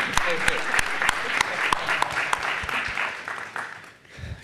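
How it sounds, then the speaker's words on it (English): An audience at a panel session on India and Sweden breaks into applause, with sharp, distinct hand claps standing out over a continuous wash of clapping before it fades near the end. "We can clap. I think we need to clap."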